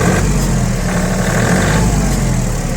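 A Hinomoto N239 4WD mini tractor with a 24 hp engine and a rotary tiller runs while driving in gear, giving a steady, loud, unbroken engine drone with a constant low hum throughout.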